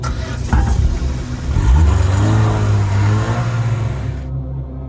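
A car engine turns over and catches, then revs up into a loud, steady mid-pitched roar that holds close by before cutting off abruptly near the end.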